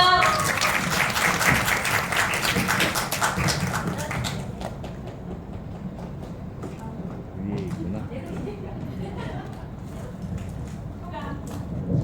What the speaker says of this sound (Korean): 박수 좀 부탁드립니다.